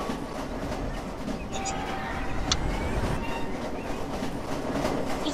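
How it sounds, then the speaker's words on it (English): Train rolling past after a crash in the Roblox Jailbreak game, a steady rumbling rail clatter with faint metallic clicks, while someone speaks over it. "This is what happens when you crash through the train."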